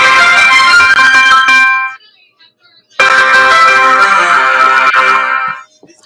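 A recreated old T-Mobile phone jingle rings out loud and bright, a tonal electronic melody played twice with a one-second gap of silence between the two phrases.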